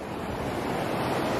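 Ocean waves roll onto a Florida beach in a continuous broad, rushing wash, close and steady, with some wind noise hitting the microphone and no voices.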